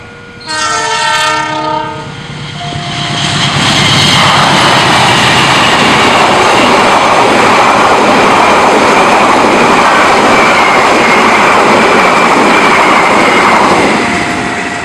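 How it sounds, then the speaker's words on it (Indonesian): A loud train horn blares, then the Taksaka express train roars straight through Arjawinangun station in Cirebon, Indonesia, close by, overtaking a container train, its heavy rushing rumble sustained for many seconds before easing slightly. "Taksaka melintas langsung stasiun Arjawinangun menyusul kereta api kontainer"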